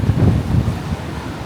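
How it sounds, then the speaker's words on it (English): Strong wind buffets a beach on Gran Canaria during a sandstorm, a steady low roar of gusts rumbling against the microphone throughout, with no voices. "Not going out there because it's windy and you can easily be blown."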